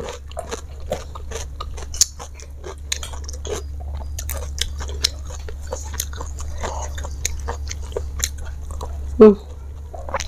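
Chicken gizzard with spicy enoki mushroom sambal being chewed right up against the mic, giving a long run of moist, crunchy bites and mouth clicks over a low steady hum, with one louder thump near the end.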